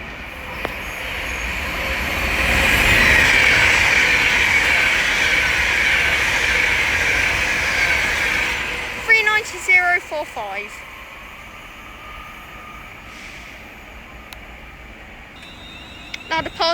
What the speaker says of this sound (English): The next train to pass by is going to be an Avanti West Coast Class 390 Pendolino from London Euston to Manchester